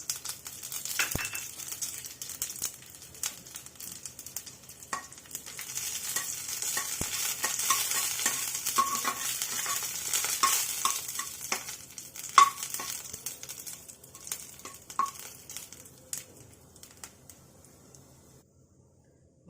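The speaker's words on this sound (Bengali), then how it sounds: "আমি পাঁচ ফোড়ন তেজ তেজপাতা আর শুকনো লঙ্কা দিয়ে দেবো" Panch phoron, bay leaf and dried chilli frying in a spoonful of hot oil: close, busy crackling and spitting with scattered sharp pops and stirring, gradually thinning out and fading toward the end.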